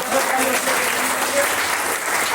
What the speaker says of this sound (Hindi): जबरदस्त ताली हो चुकी है साहब।